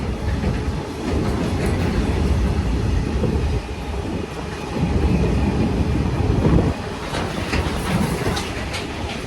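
A goods carrier train rolls through a railway station, a loud, close rumble with rhythmic clickety-clack of wagon wheels over the rail joints, swelling and easing as the cars pass.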